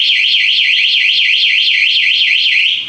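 A motorcycle alarm fitted to a Yamaha F1ZR wails loudly and close in a rapid, repeating up-and-down electronic warble that holds steady throughout, with no voices.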